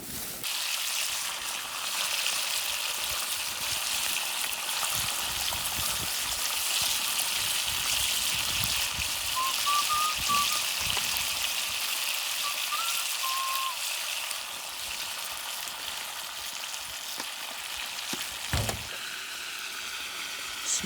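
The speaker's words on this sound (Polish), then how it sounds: "Smażenie na otwartym ogniu, na oleju sojowym." Food frying in soybean oil over an open fire in the Amazon rainforest, a steady crackling sizzle running throughout at an even level, with a few faint bird chirps in the background.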